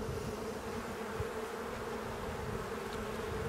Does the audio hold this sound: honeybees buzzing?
yes